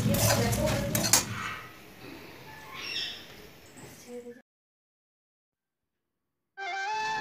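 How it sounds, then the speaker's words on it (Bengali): Brass puja utensils clatter and scrape during scrubbing, with clinks and rubbing that soften and then stop before a stretch of silence, followed by a brief burst of unrelated tonal sound. "আমি এখানে খসখস করে ঠাকুরের বাসনগুলো মেজে"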